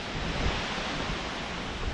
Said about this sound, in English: And it's been windy.